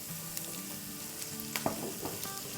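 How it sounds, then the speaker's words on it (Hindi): Onion and raisins sautéing in a pan for a chana mutton pulao give off a steady, close sizzle, with a few soft stirring knocks. "अब इसमें हम डालेंगे 2 टेबलस्पून भर के रेजन्स यानी किशमिश और उसको भी साथ साथ सौटे करेंगे।"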